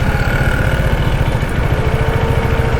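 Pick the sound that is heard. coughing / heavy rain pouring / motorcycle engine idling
motorcycle engine idling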